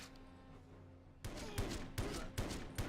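Defense turrets in the video game 007 Everything or Nothing open fire after a quiet moment, with loud, evenly spaced bursts of gunfire repeating about every half second.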